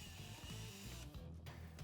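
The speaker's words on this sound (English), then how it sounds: "So we're going to start by drilling a pilot." Power drill boring a pilot hole in a Polaris General door while fitting Tusk soft upper doors, a steady whirring motor with a brief dip in pitch partway through, close and alone.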